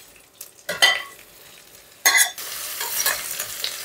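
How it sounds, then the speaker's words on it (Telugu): Onions and capsicum dropped into hot oil with cumin, bursts of loud sizzling as the vegetables hit the pan, followed by a steady close frying hiss with stirring. "సో ఒకసారి ఫ్రై అయిన తర్వాత డైరెక్ట్లీ ఆనియన్స్ అండ్ క్యాప్సికమ్ వేసేద్దాం"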